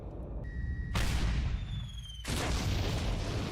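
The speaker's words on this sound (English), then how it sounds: "Cannons." Two loud, heavy booms of cannon fire in the video game Metaphor: ReFantazio, each followed by a sustained rumbling roar, with a thin whistling tone trailing between them.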